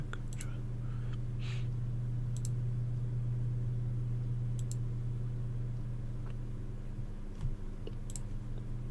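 Scattered mouse clicks tick sparsely over a steady low electrical hum, quiet and close.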